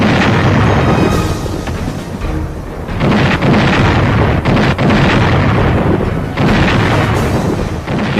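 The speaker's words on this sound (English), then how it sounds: "He ordered an unprecedented barrage of heavy artillery." Heavy artillery barrage in the Korean War: loud, dense explosions and booms roll over one another almost without pause, rumbling and crackling throughout.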